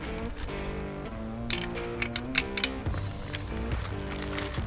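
Metal sockets held in plastic Ziploc bags clink and rattle together as a tool bag is rummaged through, with a run of bright, close-up metallic jingles over a steady background hum.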